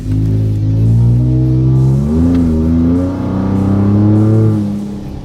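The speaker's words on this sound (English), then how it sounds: "You can definitely tell that there's an aftermarket exhaust back there." A loud Ford F-150 3.5L EcoBoost with an aftermarket Borla exhaust revs up and holds a deep, throaty roar, rising and falling in pitch as it is pushed, steady and close throughout.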